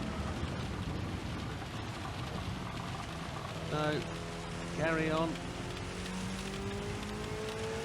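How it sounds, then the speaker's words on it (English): Heavy rain drums steadily on a car during a race in Gran Turismo 7 at High Speed Ring, a constant wash under engine tones, with someone talking briefly over it. "Can I see the end of the rain down there on the rain radar? It feels and sounds incredibly heavy."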